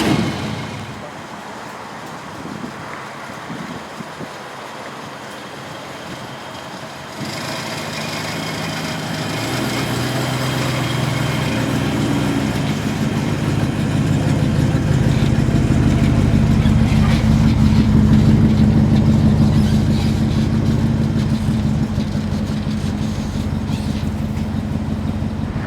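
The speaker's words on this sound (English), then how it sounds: "we're going to close the hood down and we're going to go for a little drive" A 1956 DeSoto's engine idles quietly, then revs up and settles into a steady, rising drone as the car pulls out and drives off, loud and close, with faint talking early on.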